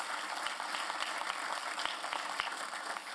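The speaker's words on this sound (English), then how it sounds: "let's hear another round of applause for Deborah Barnhart" Audience applause at a memorial space symposium, a dense, steady wash of many hands clapping from a crowd, filling the hall at moderate loudness without pause.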